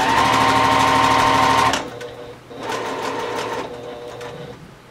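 A sewing machine stitching a fabric pencil pouch whirs rapidly and close for under two seconds, stops briefly, then runs again in a softer, shorter burst while backstitching.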